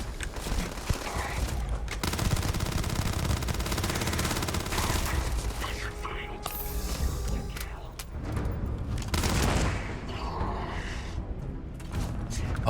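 Sustained bursts of gunfire fill a Starfield space-combat game fight, with rapid automatic shots, thuds and mechanical clanks running almost continuously and loudly throughout, mixed with game effects.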